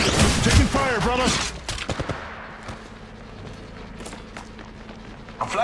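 Rapid gunfire bursts in the Apex Legends battle royale game, dense close shots crackling through a busy mix, with a voice talking over the opening seconds.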